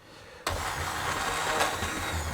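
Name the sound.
blender pureeing spinach, salmon and coconut milk soup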